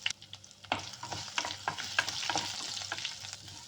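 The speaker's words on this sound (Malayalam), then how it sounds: "കറിവേപ്പില, പച്ചമുളക്, ഇഞ്ചി, വെളുത്തുള്ളി ഇത് ഇട്ട് കൊടുക്കുക." Curry leaves, green chili, ginger and garlic sizzle in hot sesame oil with mustard seeds and fenugreek, a close, crackling fry broken by stirring scrapes and spatters.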